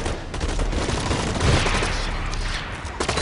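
Rapid battle rifle fire in the online shooter BlackLight Retribution, dense overlapping gunshot bursts filling the clip with a heavy thump near the middle, loud and close with no talk.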